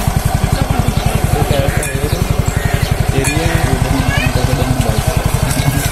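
Motorcycles and cars idling and creeping through blocked road traffic, with a steady close engine putter throbbing throughout and a person talking over it.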